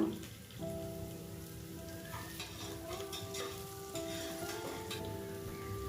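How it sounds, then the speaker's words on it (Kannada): Chopped onions fry in a pan for a soya biryani, giving a steady, close sizzle with light crackling throughout and no talking. "ಎರಡು ಈರುಳ್ಳಿ ಹೆಚ್ಚಿರೋದು, ಚೆನ್ನಾಗಿ ಫ್ರೈ ಮಾಡ್ಕೋಬೇಕು"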